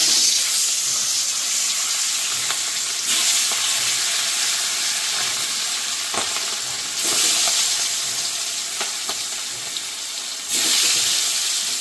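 Hilsa fish fries in its own oil in a hot pan, a continuous close hiss and sizzle with brief louder bursts of spatter, with no talking.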